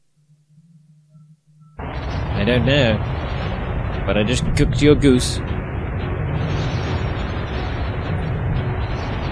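A rocket explodes in the X-COM: Enemy Unknown video game with a sudden loud boom, then a sustained rumbling crash and debris noise, while a voice talks over it.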